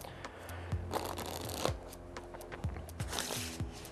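A deck of playing cards riffle shuffled by hand, with repeated fluttering bursts of cards interleaving and a few sharp snaps as they bridge and square up, close and clear with no talking.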